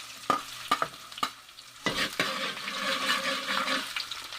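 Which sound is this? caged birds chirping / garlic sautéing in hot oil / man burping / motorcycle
garlic sautéing in hot oil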